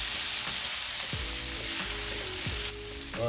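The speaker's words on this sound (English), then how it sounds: "Let that butter melt. And get incorporated into all the potatoes." Butter melts and sizzles with breakfast potatoes in a hot pan, a steady close frying hiss with a few clicks and stirring knocks, no voices.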